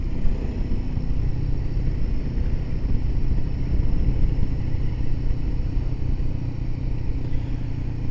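A Royal Enfield Himalayan 450 motorcycle rides along, its engine a steady low rumble mixed with wind and road noise, loud and continuous throughout with no talking.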